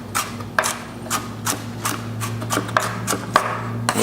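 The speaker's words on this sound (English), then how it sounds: "I'm just going to give everything a rough chop." Knife rough-chopping vegetables on a cutting board for a basic bolognese, a steady series of sharp, separate thwacks close by over a low constant hum.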